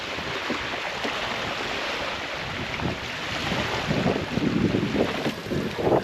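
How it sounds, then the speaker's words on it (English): Steady, loud wind rushing and buffeting the microphone on a lake, swelling stronger toward the end, with no voices. "Wind has picked up."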